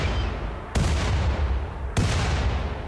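Ship weapons in the RimWorld video game fire two loud, heavy artillery-like booms about a second apart. Each boom trails off into a rumbling tail over steady background noise.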